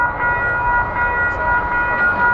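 An MBTA Purple Line commuter rail train at Norfolk station, a close, loud, continuous rumble with a steady tonal whine and no talking.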